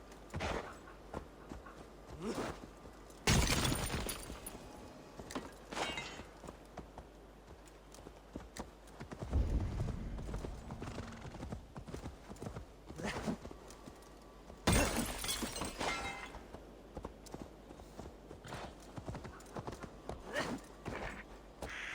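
Horse hooves clip-clop in a steady walking rhythm in Assassin's Creed Valhalla, close and moderately loud over ambient game sound, with a couple of sharper louder bursts along the way.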